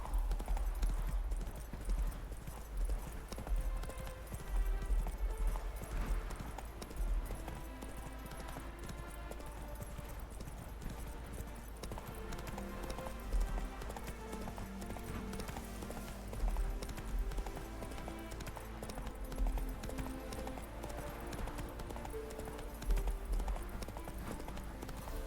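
Roach the horse gallops in Witcher 3, hooves clip-clopping in quick, steady runs of beats that recur throughout, fairly close against faint background sound.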